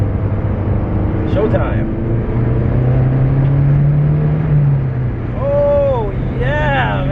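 Mazdaspeed3 fitted with JBR and CPE motor mounts pulling hard through third gear, a steady loud engine drone holding across the clip while someone talks excitedly over it.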